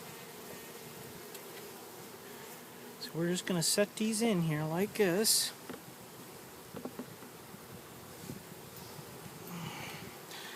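Honey bees from a package being installed into a hive, a steady near buzzing swarm under a person speaking briefly, with frames set in place.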